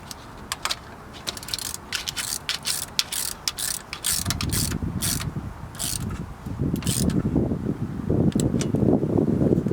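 Rapid ratchet clicking as an 11mm nut on the alternator hot lead of an International 4300 truck is tightened, steady close clicks running throughout with a denser, heavier rattle in the second half.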